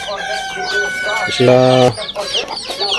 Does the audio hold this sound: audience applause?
no